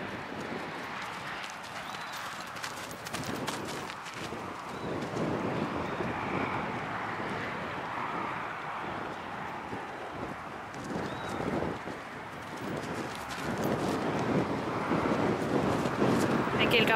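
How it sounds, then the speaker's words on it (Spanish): Criollo horse being ridden and worked through lead changes outdoors, hooves thudding in an irregular trotting rhythm under steady wind noise, with someone talking over it. "Caballo que trabaja bien con los cambios de mano y pata."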